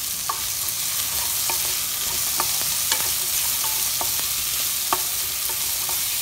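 Chopped beans go into a pan of frying vegetable pulao, a steady sizzle with sharp clinks of a spoon stirring against the pan every second or so, close and alone.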